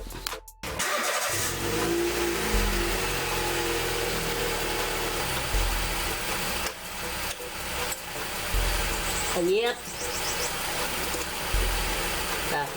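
A 2012 Honda City starts and settles into a steady idle at close range, a continuous mid-pitched engine hum with a short whine and a few brief dips and changes in tone.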